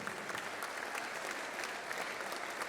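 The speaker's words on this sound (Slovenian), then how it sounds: "en velik aplavz" A school dance audience applauding at a primary school graduation ball performance, steady dense clapping from a crowd sustained throughout, moderately distant and even.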